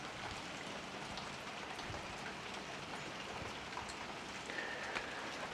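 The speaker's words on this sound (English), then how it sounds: "raining again." Steady rain falls outdoors in a continuous, even hiss of drops hitting surfaces, with a few sharper individual drips near the end and no voices.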